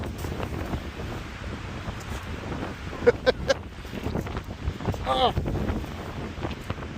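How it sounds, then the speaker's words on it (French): Gusty wind buffets the microphone outdoors on a USA road trip, a steady rushing roar with brief voices and an exclamation. "Il y a du vent."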